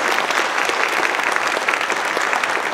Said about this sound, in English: round of applause for our Met Winds members